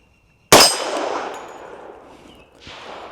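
Shot from a 460 Rowland handgun firing a 200 gr Speer Gold Dot handload at a steel target, heard as one loud sharp bang with a long ringing decay, then a second fainter hit about two seconds later, outdoors with no talking.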